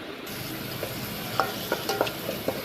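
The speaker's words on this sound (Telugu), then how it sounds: "ఇప్పుడు ఇంకొక కడాయిలో మిక్స్ చేస్తాము" A tomato rice mixture is stirred in a kadai, with soft scraping strokes and a few distinct spoon clicks over a steady low sizzle, close and fairly quiet.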